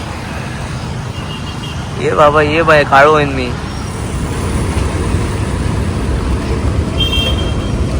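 Road traffic with passing vehicles keeps up a continuous low rumble, and a voice rises briefly over it midway.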